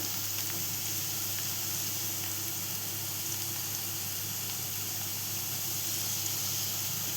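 Ginger garlic paste sizzles in hot oil for a Marathi white bottle gourd dish, a steady, even hiss running unbroken throughout at moderate volume with no voices.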